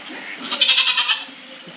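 A single goat bleats nearby in the rain, a short wavering cry lasting about a second, loud and clear with no talking.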